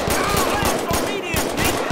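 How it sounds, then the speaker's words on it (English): Enemy gunfire in GTA 5, rapid bursts of loud automatic shots cracking in a steady rhythm, close and dominant, with a voice briefly heard among the shots. "Oh, they shooting!"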